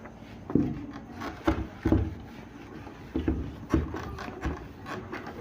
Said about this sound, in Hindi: इसको रब कर देता हूं मैं